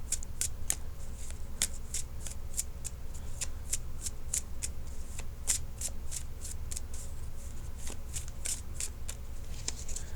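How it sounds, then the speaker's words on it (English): Tarot cards shuffled by hand, a rapid run of crisp papery riffles and flicks repeating steadily for about ten seconds, close up over a low background hum. "let me shuffle for a few more seconds"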